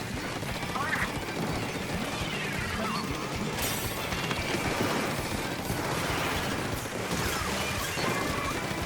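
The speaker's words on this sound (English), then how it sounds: "laying down suppressive fire." Weapons fire in the Splatoon 3 video game, a dense continuous barrage of rapid shots and splattering crashes with mechanical clicks, loud and unbroken throughout.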